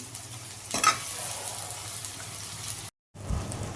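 Tomatoes and spices cooking in a pan over low gas, a soft steady sizzle with one brief stirring rustle early on and a short dropout near the end.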